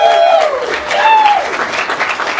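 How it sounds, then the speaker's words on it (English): A live stage-show audience claps and cheers loudly, and a voice calls out over the applause. "Round of applause for the hound."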